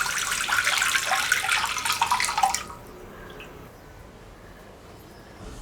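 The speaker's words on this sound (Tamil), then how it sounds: "நம்ம இப்போ தண்ணி விடலாம்." Water poured into a bowl of sago pearls soaked overnight, a steady broadband splashing pour for about two and a half seconds, then cutting off to near silence with a faint trickle.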